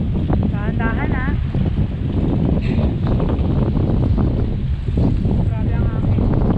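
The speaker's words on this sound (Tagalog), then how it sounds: "Grabe ang hangin." Strong wind buffets the microphone outdoors in a continuous low roar, with someone talking loudly over it throughout.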